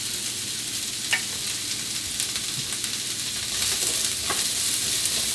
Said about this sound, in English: we're gonna let this sear for about 3 to 4 minutes until it's like slightly brown